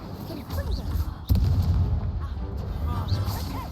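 An Incendio fire spell is cast in the Hogwarts Legacy video game, bursting out as a sudden loud whooshing blast partway through over a steady rumbling game background.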